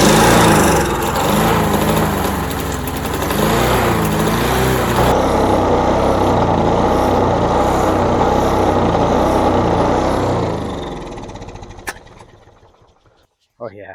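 Roadside-salvaged lawn mower engine running loud and steady as fuel is fed in by hand, buzzing continuously for about ten seconds before dying away, with a few sputters at the end.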